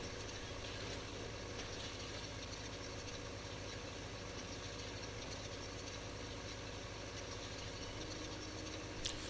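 A tractor engine idles in Farming Simulator 15, a low steady rumble with a faint regular throb, constant and unchanging throughout, with nothing else over it.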